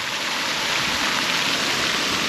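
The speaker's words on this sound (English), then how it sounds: "Have a splash pad on one side." Water sprays continuously at a pool splash pad, a steady, dense hiss with no breaks, loud and close, and no talking over it.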